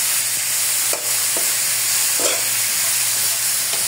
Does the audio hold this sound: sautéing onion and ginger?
yes